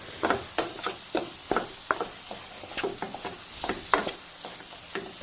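Halwa mixture roasting in a pan over a low flame, stirred in a steady rhythm of soft scrapes and taps over a faint continuous sizzle, close up with no voices.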